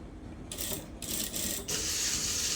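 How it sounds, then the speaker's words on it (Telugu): A sewing machine stitches beside the piping on a blouse neckline, running in close bursts with brief pauses between them, then a longer steady whir, with no talking. "పైపింగ్ పక్కనే స్టిచ్ పడేలా స్టిచ్ చేసుకుంటూ రండి"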